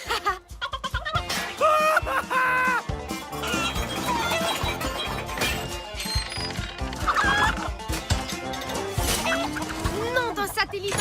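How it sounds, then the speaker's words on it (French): Cartoon chickens clucking over a busy soundtrack with music and sound effects, the fowl calls rising in short bursts among other animated noises. "Ce n'est plus une, mais 3 poules qu'on a en cavale"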